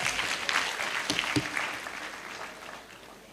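A university congregation audience gives a short, fairly faint round of applause for a guest, scattered claps fading over a few seconds.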